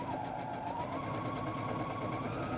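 Sewing machine stitching the sleeve of a men's shirt, a steady close-up mechanical whir with rapid needle chatter that runs without a break and without talk.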